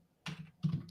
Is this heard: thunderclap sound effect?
no